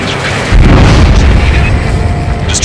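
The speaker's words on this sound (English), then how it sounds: "We're only hearing explosion echoes." Deep, rumbling underwater explosion echoes in the Ace Combat 7 video game, a loud boom that swells and then keeps rolling with no gap under a continuous low roar.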